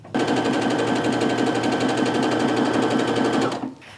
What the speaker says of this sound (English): So go ahead and do that and sew your strips together